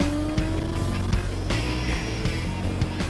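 A car accelerates past another car on an open road, its engine note rising under steady road and wind roar, with a few sharp bumps and knocks.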